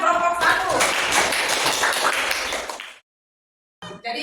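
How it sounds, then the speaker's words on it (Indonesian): A classroom of students clapping for group 1, a loud dense burst of applause lasting about three seconds, then a sudden silence before brief noise resumes. "tepuk tangan kelompok 1"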